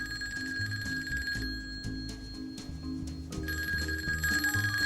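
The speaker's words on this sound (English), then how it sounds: "Rings and rings and rings in the office, right under her nose." Telephone bell ringing in an office, several bursts of loud, near electric trilling separated by short gaps, with background music underneath.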